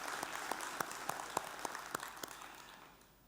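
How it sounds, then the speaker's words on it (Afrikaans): Applause for couples married over forty years: a crowd claps steadily with sharp individual claps standing out at a regular beat, then the sound thins and fades toward the end. "kom ons gee vir hulle 'n goeie hande klap"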